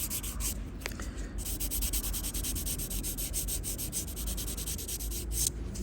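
A nail file bevels the edges of a fingernail in a DIY manicure, making a steady, close, gritty rasping in quick back-and-forth strokes, continuous and alone.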